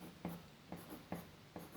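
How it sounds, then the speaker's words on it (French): A pen draws a keyboard diagram on paper with short scratchy strokes. There are four quiet, evenly paced taps and scrapes, close and soft, with no talk. "Je dessine un clavier."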